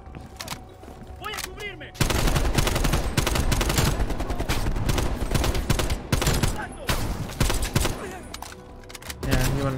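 Heavy automatic gunfire rattles through a Call of Duty: Black Ops Cold War firefight in the Cuba campaign. Sparse shots at first give way to a loud, sustained barrage of overlapping bursts, with voices faintly underneath.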